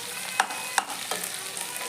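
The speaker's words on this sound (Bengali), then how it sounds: "ভেন্ডিটা কম আছে ভাজা হতে থাকুক" Okra fries in a pan with a bright, even sizzle, punctuated by two quick clinks of a utensil near the start.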